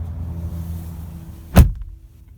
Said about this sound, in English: All right, so shutting the door.